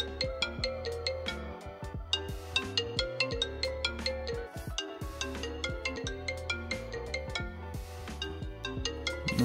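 Ringing tone of an outgoing phone call, heard as a dense, repeating electronic ring pattern of sharp pulses that runs steadily and loudly throughout with no talking.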